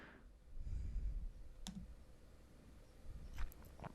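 Faint computer mouse clicks and keyboard taps at a desk, a few sharp isolated clicks over low background rumble, with no talking.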